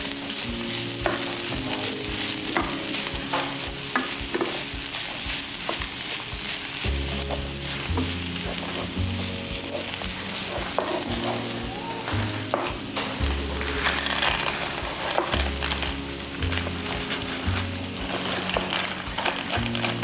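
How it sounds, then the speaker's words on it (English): Peas and carrots stir-frying with rice in a pan give a dense, steady sizzle over twenty seconds, with repeated stirring scrapes and spatula clicks close up and no talking. "I'm gonna go ahead and add my peas and carrots."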